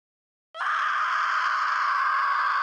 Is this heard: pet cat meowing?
no